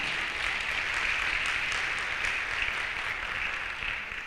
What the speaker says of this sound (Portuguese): Aplaudam, irmãos, a Jesus por esse irmão que